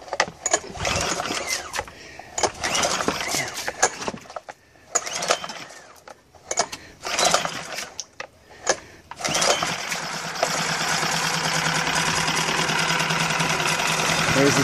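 A Lehr 5HP propane outboard motor is pull-started with repeated cord pulls and sputters, then catches and settles into a steady, loud running drone for the last few seconds, close by.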